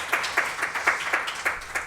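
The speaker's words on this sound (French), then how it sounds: "On peut peut-être l'applaudir dans la salle, très fort, et en ligne aussi." A small room audience at a business talk claps in an uneven rhythm, with several distinct bursts standing out over a soft background of scattered hands.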